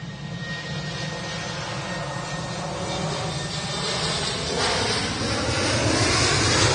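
A Boeing 737 airliner from Cork at Manchester Airport gives a steady, broad jet roar that swells gradually, with wind buffeting the microphone and no talk.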